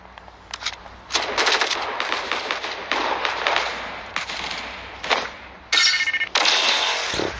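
Rapid automatic gunfire bursts from a video game shootout, loud and close, firing in repeated clusters with brief gaps and sharp shot cracks throughout, with no talk over them.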